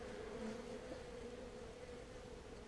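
Cornish honeybees buzz steadily at a top-bar hive, a soft continuous hum of many insects close by, quiet and without talking.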